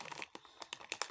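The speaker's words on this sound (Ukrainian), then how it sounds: "Відкривається пакет легко, навіть якщо у вас немає ножа або ще чогось." A plastic packet of a Swedish field ration is torn open by hand, with quick, quiet crinkling and ripping sounds close by.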